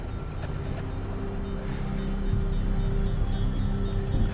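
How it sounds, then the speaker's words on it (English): An approaching train gives a low, steady rumble that swells slightly louder as it nears, with a faint high hiss over the drone. "I think I hear the train."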